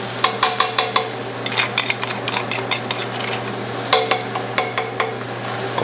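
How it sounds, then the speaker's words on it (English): Tomato paste toasting in a hot pot over high heat, stirred with a utensil that clacks and scrapes in quick repeated bursts over a steady sizzle, close and fairly loud. "We'll stir that around a little, get it on the high heat."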